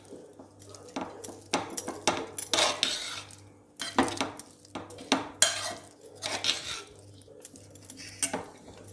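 Cooled sweet potato is mashed in a bowl with a spoon, giving repeated close clinks, scrapes and soft thuds in uneven bursts against a quiet background.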